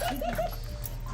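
A puppy whimpers in a reunion with its former keepers, giving a few short, rising high whines close by in quick succession, then settling into quieter sounds with faint background voices.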